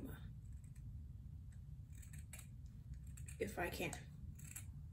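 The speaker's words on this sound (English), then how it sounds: "I'm going to cut right below the Puma" Scissors snip through a Puma sock to cut off the bottom half for a face mask, a short crisp burst of cutting close by under a steady low background hum, with brief speech nearby.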